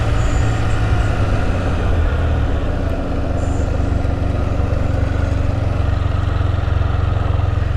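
A Spyder three-wheeled motorcycle engine runs steadily with a deep, continuous low rumble and even throb, close and loud, with no change in pace throughout.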